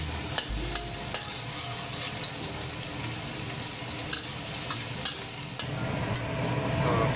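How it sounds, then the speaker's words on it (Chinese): Ingredients for homemade taro cake stir-fried in a pan until golden, a steady close sizzle with occasional sharp spatula clicks and scrapes against the pan, no talking. "炒到差不多金黄色咧，应该捞上来用咧"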